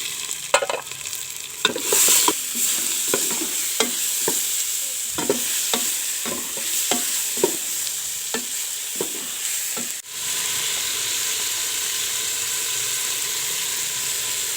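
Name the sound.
tomatoes frying and stirred in pan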